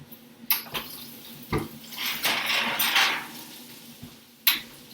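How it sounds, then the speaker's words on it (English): A roasting pan of butternut squash is pulled from the oven to be turned, with sharp metallic clanks and knocks spaced through a soft scraping, rushing clatter. "we're going to go ahead and pull our butternut squash out to turn again"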